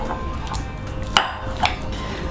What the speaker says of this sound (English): So I've got 110 grams of unsalted butter here, which I'm just gonna beat until it's smooth.